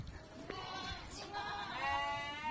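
A sheep on a hillside bleats in wavering, drawn-out calls that are fairly faint, with a brief sharper sound just before them.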